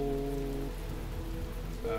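Steady rain falls in the video game The Talos Principle, a soft continuous patter under low sustained musical tones, without talk.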